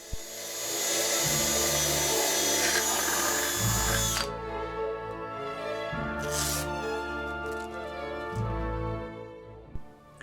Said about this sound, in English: I choose a drill bit that is the same diameter as the smallest diameter of the end pin, and then I drill the hole